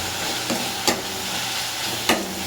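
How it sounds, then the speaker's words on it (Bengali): Meat stirred in a frying pan with Kashmiri chili powder, a loud steady sizzle with a couple of scraping strokes of the spoon, close up and without voices. "ভালো করে নেড়ে নেব।"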